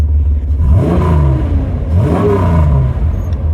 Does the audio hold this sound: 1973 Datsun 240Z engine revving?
yes